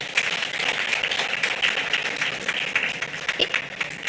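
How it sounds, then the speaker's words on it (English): An audience claps for Amma Pratt at a community dialogue, a fairly faint, even patter of many hands held steady for about four seconds, with no clear talk over it. "I would give Amma Pratt another round of applause"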